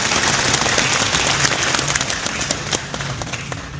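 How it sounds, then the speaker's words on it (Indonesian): A crowd at a religious gathering applauds for Indonesia, loud close clapping that starts strong and gradually thins and fades toward the end. "Tepuk tangan buat Indonesia"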